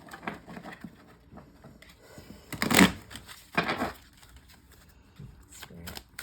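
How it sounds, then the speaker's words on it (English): Oracle cards riffled and shuffled by hand in a few quick bursts of crisp flapping, with soft handling sounds and quiet background noise between them. "Just going to give it a little shuffle."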